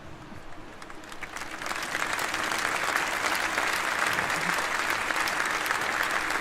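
A crowd at the Scania launch event breaks into applause that swells within a couple of seconds into sustained, dense clapping, loud and continuous, with a little cheering under it.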